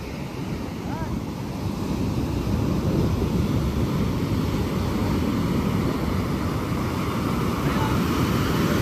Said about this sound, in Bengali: ঢেউটা দেখো কি প্রবল